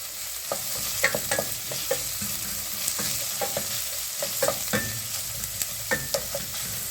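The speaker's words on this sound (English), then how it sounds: "Let's go in with our onions. 1 finely chopped onion. And sauteing around your pan." Finely chopped onion sautés in hot olive oil in a pan, a close, steady sizzle broken by frequent clinks and scrapes of a utensil stirring, with no voices.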